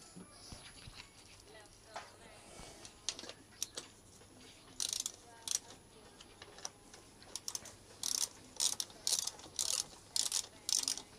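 A torque wrench tightens the front brake caliper mounting bolts on a Suzuki GSX-R 1000 streetfighter build, giving a run of sharp, close mechanical clicks and ratchet ticks that bunch into quick repeated bursts toward the end.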